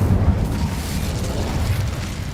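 The Incendio fire spell from Hogwarts Legacy goes off as a short, full-bodied whoosh and burst that rumbles for a couple of seconds.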